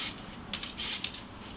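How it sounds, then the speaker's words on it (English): Texturizing hair spray misted onto styled hair, several short airy hisses in quick bursts, one longer spray in the middle, close and clear. "So I take a little bit of my textured spray and I just start kind of fluffing the hair up."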